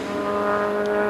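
A Can-Am single-seat sports racing car, an Allen SSE001 with a Lola running close by, roars steadily at high revs on a circuit as it draws up behind a slower lapped car, the engine note loud and continuous throughout.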